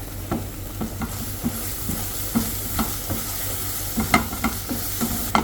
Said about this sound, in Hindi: मावे का कलर चेंज हो रहा है तो मावे को अच्छे से भून के ही डालना है मिठाई में।